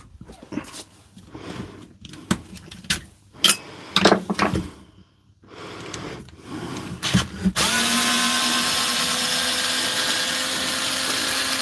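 A DeWalt power screwdriver starts up after a stretch of clicks and handling knocks, then whirs steadily and loudly for several seconds, close to the microphone.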